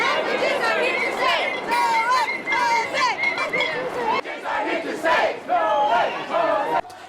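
A 2,000-strong student protest crowd chanting and shouting as it marches down University Avenue over university cuts, many voices rising and falling in loud rhythmic chants with continuous crowd noise.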